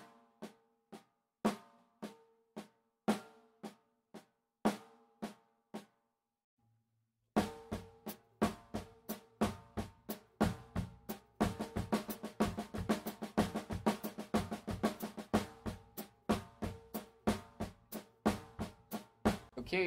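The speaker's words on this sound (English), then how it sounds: "now we play double strokes instead of single strokes and we keep accenting the one of every triplet note group" Acoustic drum warm-up exercise playing accented double-stroke triplets, first as a few sparse strong hits, then after a short pause as a dense, steady stream of rapid strokes with a regular accent pattern, close and clear.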